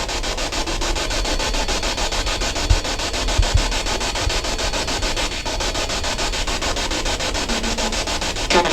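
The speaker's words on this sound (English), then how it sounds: "All right, we have the spirit box on." Harsh, choppy radio static from a spirit box sweep hisses continuously, with a fast pulsing rhythm as it scans through stations.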